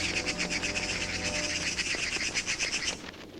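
A busy flock of small birds chirps and twitters rapidly and continuously at close range, then cuts off near the end.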